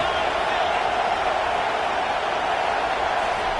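Loud, steady roar of a stadium crowd at a college football game building ahead of a big third down, a dense continuous wash of cheering and voices that holds at full level throughout.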